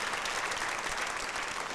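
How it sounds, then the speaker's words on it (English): Steady, dense clapping from a crowd, loud and continuous throughout without pause. "I think they deserve a big round of applause"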